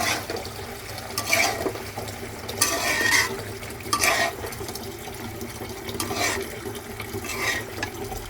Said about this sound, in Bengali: মাছগুলো দিয়ে দিলাম এখন একটু নাড়াচাড়া দিয়ে দেবো